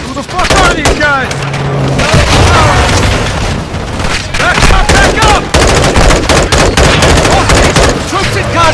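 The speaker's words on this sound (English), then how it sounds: "Contact rear! Eliminate that threat, Shadow!" Call of Duty Modern Warfare 2 prison-break campaign combat: loud, continuous rattling gunfire and booming explosions, with shouted voices mixed into the chaos.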